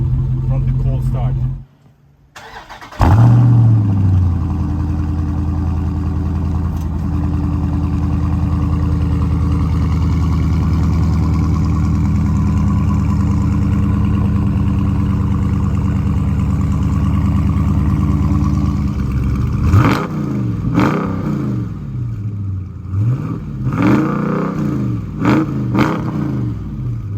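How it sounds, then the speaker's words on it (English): A 2020 Dodge Charger 392 with dual exhaust pipes, starting from cold with a loud flare, then settling into a steady, rumbling idle before several sharp revs toward the end; people talk over it. "These exhaust pipes are very loud. I will include the sound clip as well"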